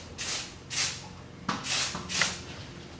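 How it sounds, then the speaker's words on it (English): Filter oil sprayed onto a foam air filter from a Cobra motorcycle, including its sealing brim, in several short hissing bursts spaced through the moment, fairly close and with no talk over them. "We do recommend spraying a little bit on the brim, the sealing surface."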